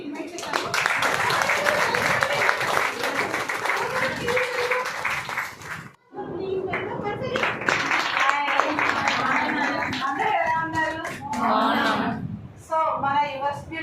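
Audience clapping at the opening seminar of a beauty makeup academy in SR Nagar, Hyderabad, a dense, steady round of applause from a crowd that pauses briefly and resumes, with voices and cheers mixed in toward the end.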